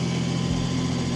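A Nissan S14 and a BMW E46 idling together outside, a steady low engine drone with constant rumble and no change in revs.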